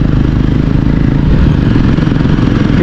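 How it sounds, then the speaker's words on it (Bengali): Three West Bengal motorcycles ride together on a high-altitude route to Zero Point in North Sikkim, giving a loud, continuous engine drone with rattling clatter, close and unbroken throughout. "একসাথে যাচ্ছে 3টা বাইক"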